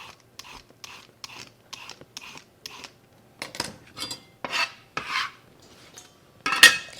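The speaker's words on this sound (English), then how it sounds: "On to the carrots now. Just going to simply peel them." A peeler rasps down carrots in quick, regular strokes, each a short dry scrape, close and fairly soft at first, then the strokes get louder and more spaced, with no one talking.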